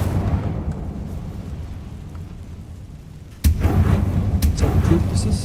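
Incendio fire spell cast in Hogwarts Legacy, a low rumbling whoosh that erupts suddenly and loudly partway through and keeps burning over steady background ambience.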